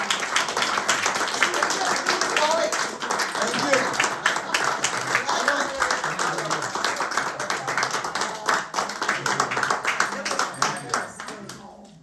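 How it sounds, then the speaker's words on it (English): A concert audience applauds after a piano performance by the pianist with the hair in San Diego, dense sustained clapping that fills the room and fades at the end, with a voice briefly heard over it. "a final round of applause for a wonderful"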